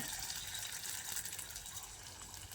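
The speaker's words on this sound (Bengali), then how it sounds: "সেই তেলেই আমি এইভাবে চ্যাপটা করে বড়াগুলোকে ভেজে দিয়ে দিচ্ছি" Flattened ridge gourd fritters frying in oil already used for frying ridge gourd flowers give off a steady, close, hissing sizzle with no one talking.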